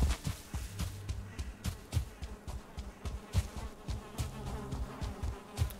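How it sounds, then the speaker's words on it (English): Bees buzz in the meadows of the video game Valheim, a continuous insect drone close by, with soft rhythmic thuds of in-game movement beneath it. "Hello, bees."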